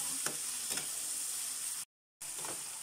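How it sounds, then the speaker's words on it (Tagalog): Vegetables with oyster sauce stir-fry in a pan, a soft steady sizzle with a few scraping stirs near the start and end, broken by a brief dead gap of silence. "Haluin para hindi masunog."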